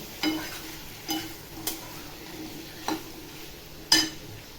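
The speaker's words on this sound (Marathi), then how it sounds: "मस्त मध्ये भाज्या टाकल्यावर परतून घ्यायचं" Cut eggplant sautéing in oil, a quiet sizzle broken by a handful of sharp spatula scrapes and taps against the pan, spaced a second or so apart.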